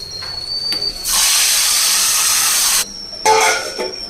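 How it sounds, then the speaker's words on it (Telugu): A hot spice tempering with curry leaves, poured into a bottle gourd stew, sets off a loud, steady hiss of sizzling that lasts under two seconds. The sizzle then cuts off and flares again briefly. "ఇప్పుడు తిరగమూత వేసేసుకోవచ్చు."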